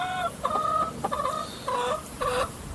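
Chickens in a garden coop cluck in short repeated bursts of throaty calls, several clear phrases spaced across a couple of seconds over quiet outdoor background, with no talking.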